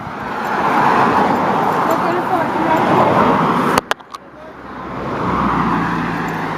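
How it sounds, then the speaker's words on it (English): A car passes on a road outdoors on a winter walk, a steady broadband roar of traffic rising and fading, briefly broken by a few sharp knocks, with talk nearby. "There's a car coming."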